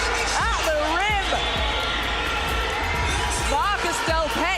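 An arena crowd at a Manchester vs Bristol Flyers Super League basketball game roars steadily after a dunk at the rim, with a commentator talking over the noise and a few ball bounces cutting through.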